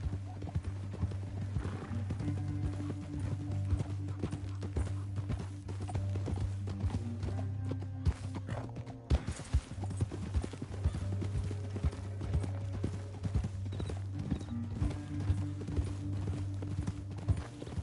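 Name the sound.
horse hooves galloping, video game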